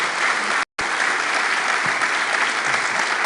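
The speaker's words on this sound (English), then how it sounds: "Please join me in a round of applause for Minister and for Lina." Sustained, dense applause fills the hall at a peace dialogue session in Rome, steady and loud with a brief dropout near the start.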